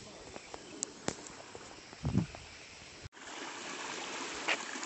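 Water trickling steadily at the source of the Son river at Sonmuda, Amarkantak, a soft continuous outdoor wash with a few faint clicks and knocks over it, quiet and slightly distant, with no talking.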